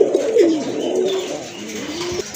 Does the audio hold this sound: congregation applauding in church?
no